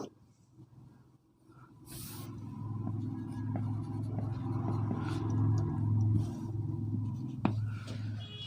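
Chalk or a marker scratches steadily across a classroom board in a quiet room, a continuous low scraping, with a couple of brief sharp taps and soft background hum.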